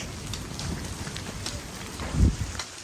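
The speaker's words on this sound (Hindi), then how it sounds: "गाइस, खतरनाक बारिश हो चुकी है।" Heavy rain pours during a bicycle ride, a dense hiss of falling drops mixed with gusty wind buffeting the microphone and a brief louder thump near the end, with no clear talk.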